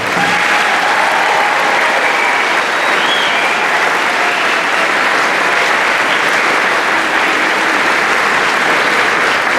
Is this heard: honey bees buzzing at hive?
no